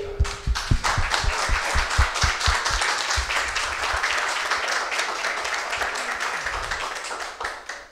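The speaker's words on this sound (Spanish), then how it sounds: "Démosle un aplauso." Audience applause for university council candidates at a campus election presentation, a dense sustained clapping that opens with a few sharp claps and fades out near the end.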